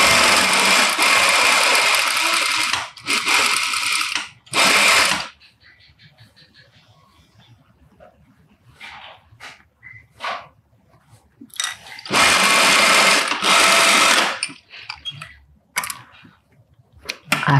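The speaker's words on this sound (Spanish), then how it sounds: "Entonces vamos a coser acá el bolsillo." A sewing machine runs in long loud bursts while stitching a trouser pocket, several sustained runs separated by pauses filled with small handling clicks and rustles.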